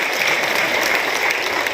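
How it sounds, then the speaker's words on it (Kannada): Audience at a public program clapping in a steady, even burst of applause, close and continuous throughout. "ಅವ್ರಿಗೂ ಜೋರ್ ಚಪ್ಪಾಳೆ ತಟ್ರಿ"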